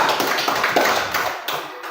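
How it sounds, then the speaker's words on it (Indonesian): A classroom of students clapping for group two, a dense, fairly close patter of many hands that runs the whole time and tapers slightly toward the end. "tepuk tangan untuk kelompok dua"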